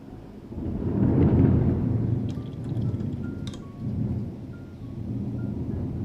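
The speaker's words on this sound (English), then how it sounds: "can hear the delay in thunder from my end to yours" Thunder rolls in a low, rumbling swell that builds and fades over several seconds, with a few faint higher taps like rain on a surface layered above.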